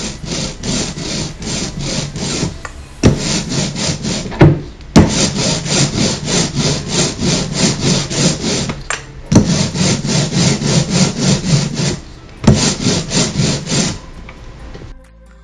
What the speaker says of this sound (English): When you have just the right amount of ink and it's nice and spread out, you'll hear this magic sticky sound.